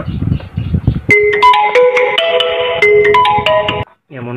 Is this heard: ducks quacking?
no